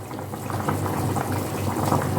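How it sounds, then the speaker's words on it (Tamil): A pot of mutton bubbling at a steady rolling boil for biryani, a continuous close gurgle of simmering liquid with no voices. "தலைப்புல தலைப்புலன்னு கொதிக்குது மட்டனு"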